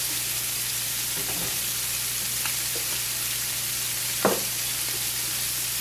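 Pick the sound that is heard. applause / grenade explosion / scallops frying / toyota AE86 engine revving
scallops frying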